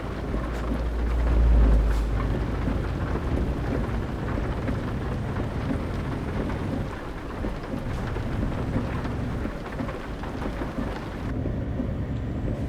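Steady rain pours down in Euro Truck Simulator 2 during a drive from Norway to Denmark, a continuous hiss with low rumbles of thunder and some vehicle drone, easing briefly near the end.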